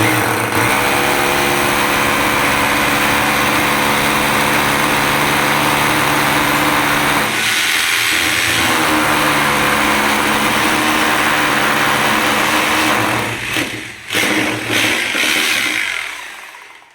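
An Xtrapower rotary hammer drill in hammer mode bores a hole, a loud, close, continuous buzzing hammer whine that dips briefly midway and sputters before stopping at the end.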